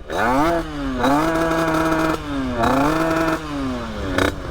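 A 50cc moped engine, rebuilt after breaking and suspected of an ignition fault, runs close by and revs repeatedly, each rev rising and falling in pitch between buzzing stretches, with a short sharp burst near the end.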